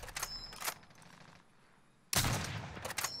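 Gunfire in the video game Warzone, with two short loud bursts near the start, a quieter lull, then a heavy sustained volley with sharp mechanical clicks, close and without speech.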